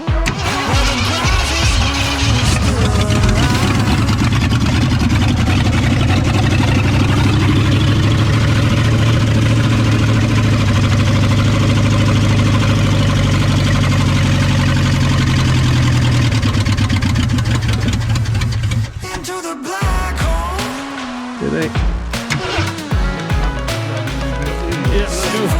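A 1963 Ford Galaxie 500 hardtop that has sat for 30 years cranks loud and close in a long, unbroken starter-driven drone for about nineteen seconds, then cuts off abruptly, leaving scattered softer noises.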